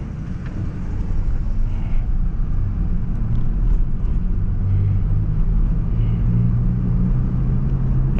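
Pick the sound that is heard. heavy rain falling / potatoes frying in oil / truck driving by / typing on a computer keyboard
truck driving by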